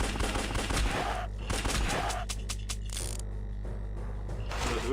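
Rapid gunfire from the video game Larva Mortus crackles in dense, loud bursts, pauses briefly, then resumes in quicker clusters over steady low background noise.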